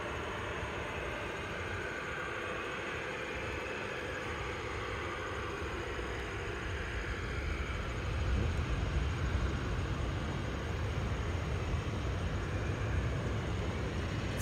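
An American Airlines airplane takes off from Ronald Reagan airport, a broad, distant jet roar that holds steady and then swells and deepens about halfway through, with no voices.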